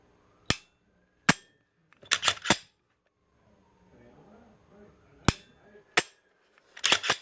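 Sharp dry-fire clicks from a custom-built Glock trigger, several single snaps then quick pairs and triplets with short gaps, close and crisp, with faint handling rustle between them.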